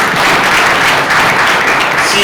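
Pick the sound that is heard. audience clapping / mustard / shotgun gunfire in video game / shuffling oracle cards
audience clapping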